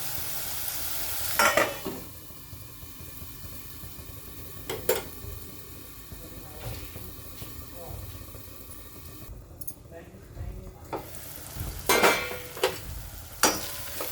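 Onion and tomato cooking over low heat in a covered pan, a soft continuous sizzle broken by occasional clatters of the lid or utensil, with a voice talking at times.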